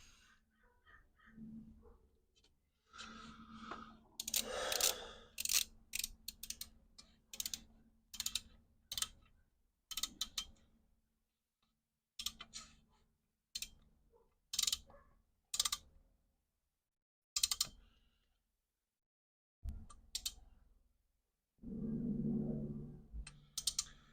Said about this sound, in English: See how the wrench just clicked into place?